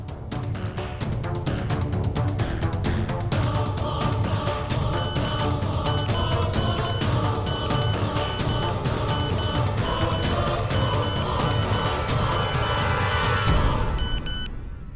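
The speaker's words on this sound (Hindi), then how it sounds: "अब तो युग अपनी घड़ी का अलार्म जरा अदालत को सुनाने का कष्ट करेंगे।" In a courtroom drama scene, a wristwatch alarm rings as a rapid run of repeated high electronic beeps layered over loud background music.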